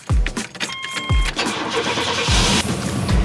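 An old Chevrolet S10 pickup truck cranks and fires up, with repeated starter whirs and thumping engine catches, then settles into a rough, uneven idle heard close by.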